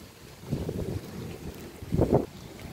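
Strong wind gusts during a thunderstorm in Meyzieu buffet the microphone in two rushing surges, one early and one louder near the end, over a low, steady roar.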